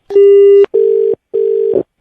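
A telephone line tone sounds after a prank call is hung up: three loud, steady electronic beeps, the first longer, separated by short silences.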